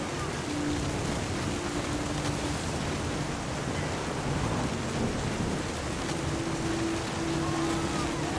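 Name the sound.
thunderstorm with rain in What Remains of Edith Finch video game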